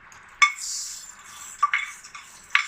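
A metal spoon stirs a sizzling tempering mixture into boiling dal in a pot, giving three or four distinct clinks against the pot over a soft hiss, close and moderately loud.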